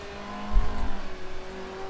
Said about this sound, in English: I'm listening to where the cars are braking and where they're going fast